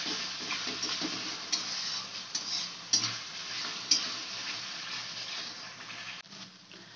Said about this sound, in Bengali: দিয়ে দেবো সামান্য জল, দিয়ে মশলাটাকে ভালো করে কষাবো।